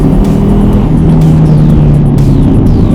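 A Ford Mustang engine roars loud and constant at high revs, flat out in third gear, droning steadily without a break.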